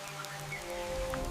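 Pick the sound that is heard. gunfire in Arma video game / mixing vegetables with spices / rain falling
rain falling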